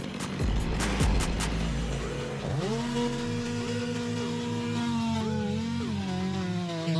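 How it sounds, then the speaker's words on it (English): A vehicle hauling chainsaws and tree-cutting tools pulls away after a branch-sawing job. Its engine rises in pitch, then holds a steady, fairly loud drone with shifting revs, and no one speaks. "As the vehicle carrying the tools rolled out of the area"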